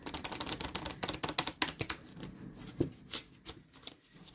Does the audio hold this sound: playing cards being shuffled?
yes